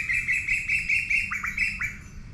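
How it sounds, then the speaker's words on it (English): Songbirds chirp in a quick run of bright, repeated tweets, clear and fairly close, with a few lower swooping notes near the end over faint background hum. "love those songbirds"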